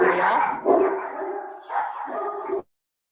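Dogs bark in a few loud, close bursts over about two and a half seconds, then silence falls.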